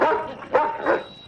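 A dog in a classic TV sitcom scene gives three loud, close barks in quick succession, each one short and sharp.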